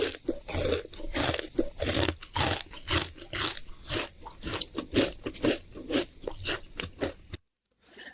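Loud, close crunching as something crisp is chewed in steady repeated bites, lasting several seconds before cutting to silence.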